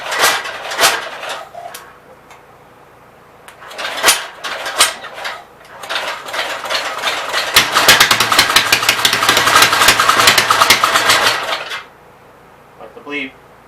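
An engine is running after its throttle has been bumped up slightly. A few clanks and knocks come first, then a loud, close, steady rumble holds for several seconds before dropping away.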